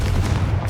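A Confringo fire spell blasts in Hogwarts Legacy, giving one dense, loud burst of booming impact that fills the short moment with low rumble and crackle, with no talk over it.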